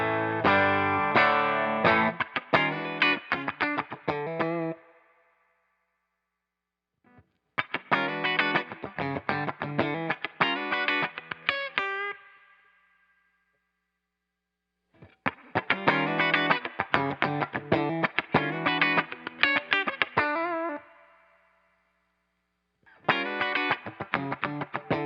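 Electric guitar played through a Suhr Andy Wood Woodshed Compressor pedal, with slightly colored, effect-laden tone; four separate strummed passages of several seconds each, loud and close, separated by silent gaps, with no talking.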